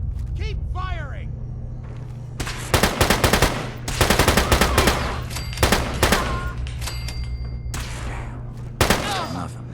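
Bursts of rapid automatic gunfire in Fallout 4, several loud sustained volleys with short gaps between them over a low engine-like rumble, with brief voices calling out between the bursts.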